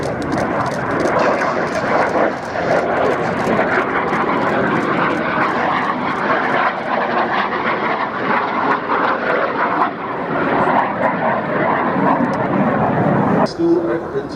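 A Jet Provost jet trainer with wingtip fuel tanks makes a display pass at Duxford Air Festival, a loud sustained engine roar and whine throughout, with a commentator talking over it.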